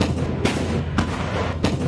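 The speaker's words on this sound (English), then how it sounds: "The M109 Howitzer helps the U.S. Army accomplish this mission through mobile long-range indirect fire" An M109 self-propelled howitzer fires its 155mm M284 cannon in a sequence of three heavy booms at roughly half-second intervals, loud against a dense rumbling background.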